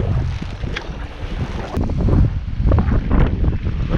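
Strong wind buffets the microphone in rumbling gusts, a continuous low roar rising and falling with no voices.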